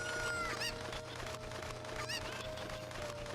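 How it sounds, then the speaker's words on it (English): Cucco chickens cluck in Kakariko Village in the video game The Legend of Zelda: Ocarina of Time, several short squawky calls over steady game music and ambience. "I'm just grabbing chickens."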